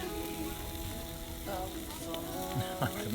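Burgers sizzle and fry in a pan in a small boat galley, a steady crackling hiss with occasional scrapes and clinks, heard close and continuous.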